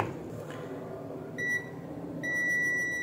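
A multimeter set to continuity beeps while testing the pins of a repaired iPhone charging cable: two steady electronic tones, a short one and then a longer sustained one, sounding over faint room hum.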